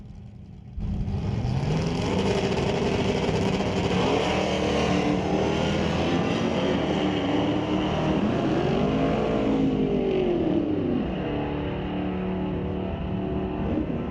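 Two drag cars launch together at a drag strip, a 1968 Dodge against a 1969 Mach 1 Mustang with a 428 engine: a loud, sustained engine roar that rises through the gears and holds steady over about fourteen seconds, with no talk.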